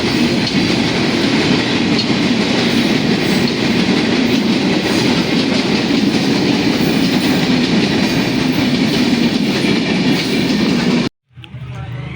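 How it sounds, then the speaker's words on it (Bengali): The Benapole Express of Bangladesh Railway pulls out of Chuadanga bound for Dhaka, a loud, close, continuous rumble of wheels and carriages with steady clattering, cutting off abruptly near the end. "এই যে বেনাপোলটা ঢাকা যাবে চুয়াডাঙ্গা থেকে, ঢাকার দিকে রওনা হবে"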